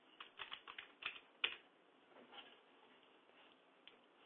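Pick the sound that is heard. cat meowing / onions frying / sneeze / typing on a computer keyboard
typing on a computer keyboard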